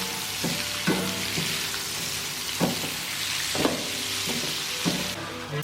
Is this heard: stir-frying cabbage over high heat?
yes